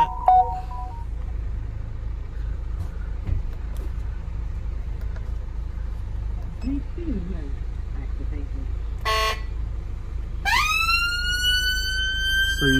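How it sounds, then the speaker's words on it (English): Ambulance siren on a Fiat Ducato, heard at close range near the end as a loud rising wail, after a stretch of low engine hum with brief electronic tones and bursts. "So you've got the alarm there, the ambulance alarm."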